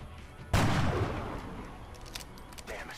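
A single loud gunshot rings out in the turn-based strategy game XCOM: Enemy Unknown, a sharp close blast followed by a rumbling tail that fades over the next couple of seconds.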